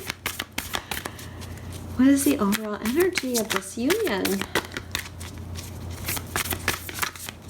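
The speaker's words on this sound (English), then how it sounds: "These cards are very hard to shuffle too." A deck of thick, stiff tarot cards is shuffled by hand in repeated crisp riffling bursts, close up, while someone speaks over part of it.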